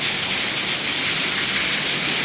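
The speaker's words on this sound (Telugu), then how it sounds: "ఇదంతా కూడా వర్షమండి." Heavy rain pours down in a steady, dense hiss that stays loud and unbroken throughout, with no voices over it.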